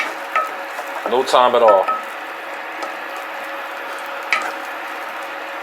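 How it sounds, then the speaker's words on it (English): Vegetables sizzle in a pan on medium heat while a utensil stirs them, with a burst of scraping and clatter in the middle over a steady frying hiss, and a brief spoken phrase. "we're just going to stir these around so they start to get translucent"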